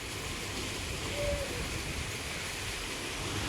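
Water flows steadily near a forest side path on a weekend bike ride outside Bangalore, making a continuous, even rushing hiss at moderate level with no voices over it.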